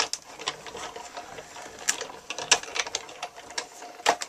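An embossing folder with a cutting plate is rolled through a die-cutting machine for a friendship card, giving a steady close mechanical grinding and clicking with sharper ratchet-like bursts across the pass.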